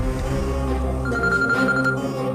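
A phone rings with a steady electronic tone over a low background hum, continuing without a break.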